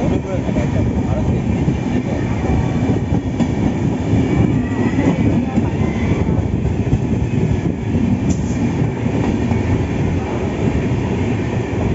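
A passenger train pulling out of Jeypore station in Odisha on the Visakhapatnam to Jagdalpur line, heard from on board as a steady, loud rumble of rolling wheels and carriages with a faint clickety-clack running throughout.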